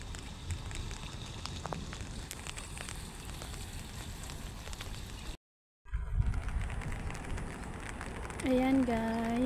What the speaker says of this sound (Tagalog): umuulan na siya. So, ayan, dito na tayo iikot-ikot.